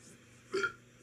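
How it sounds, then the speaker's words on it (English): One short, quiet burp rises briefly out of a faint, hushed background. "He burped."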